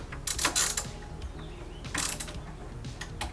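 A small torque wrench set to 48 inch-pounds clicks while tightening bolts on a Toyota Prius hybrid battery during a rebuild, giving a few sharp ratcheting bursts with pauses between them. The clicks are close and fairly loud, and no one speaks.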